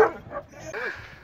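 A hunting dog on a wild boar hunt gives a few short, close barks and yips with a whining rise, while people talk nearby.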